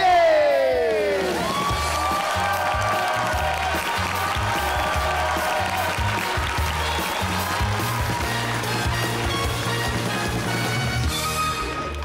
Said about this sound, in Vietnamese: Một tràng pháo tay dành cho bốn nghệ sĩ của chúng ta